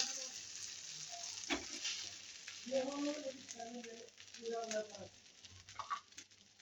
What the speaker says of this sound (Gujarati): તવા પર આપણે તેલ લઈ લઈશું અને આપણે આને શેકી લઈશું.